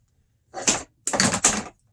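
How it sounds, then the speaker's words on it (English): Wire cutters snipping plastic parts off a Craftsman 5-tier storage shelving unit, three short sharp clicking snips close by in quiet surroundings. "you're going to want to snip apart with a pair of wire cutters or a pair of scissors. So you just cut each one off."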